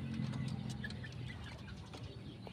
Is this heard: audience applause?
no